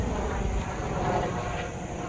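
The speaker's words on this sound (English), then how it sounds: "there's a helicopter going by" Steady broadband engine drone of a helicopter passing overhead, a continuous loud roar holding level throughout with no voices over it.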